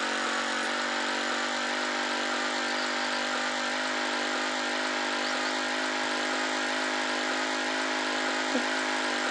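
A car engine in the Roblox game Drive Beyond Horizon drones steadily and evenly throughout, a continuous mid-pitched hum with no talking over it.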